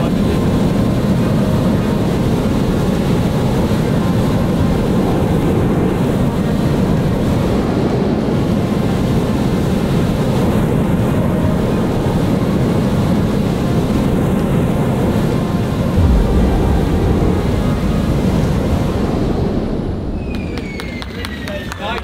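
Iron Man style jetpack engines running in flight, a loud, steady turbine roar that holds for about twenty seconds before starting to fade, with voices talking underneath.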